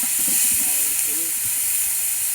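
Onions and tomatoes sauté in a pan for chicken mandi, a loud continuous hiss and sizzle with a voice talking faintly underneath.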